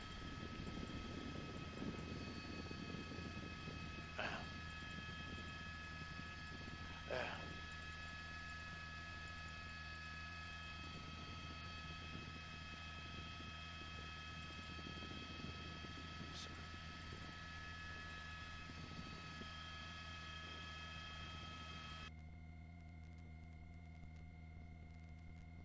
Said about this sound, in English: We're going to swing the helicopter around a little bit.